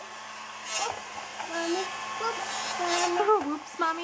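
A hair blow dryer blows a steady broadband whoosh throughout, close and fairly loud, while a small child and an adult talk over it.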